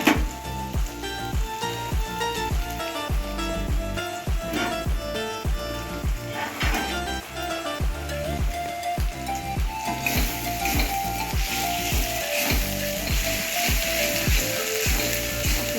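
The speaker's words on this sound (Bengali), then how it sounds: "আর দেখে তো কি সুন্দর তেল ছেড়ে যাচ্ছে আর যে লঙ্কা বেটেছিলাম লঙ্কা বাটাটাও দিয়ে দেবো" Mutton curry masala with ground chilli paste frying in oil for a thin mutton curry, a steady loud sizzle with rhythmic stirring scrapes and clinks of a pot throughout, no talking.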